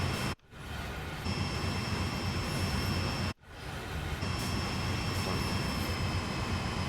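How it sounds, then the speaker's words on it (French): Train Sim World 2 coal train hauled by an AC4400CW locomotive gives a steady mechanical rumble and roar, broken twice by sharp cuts to near silence, with a faint high whine. "C'est un train de charbon pour ceux qui veulent savoir."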